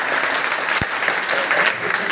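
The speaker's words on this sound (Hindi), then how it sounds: "उनके लिए जोरदार तालियां प्राचार्य।" Dense applause from a crowd at a high school farewell ceremony in India, steady and loud throughout, with one sharp thump partway through.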